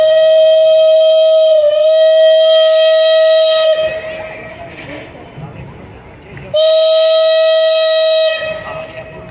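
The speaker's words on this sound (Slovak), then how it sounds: "Chlapci, aj vy nám zapískate." A steam locomotive's whistle blasts loud and close in two long sustained tones separated by a pause, the second starting abruptly, with faint mechanical background between them.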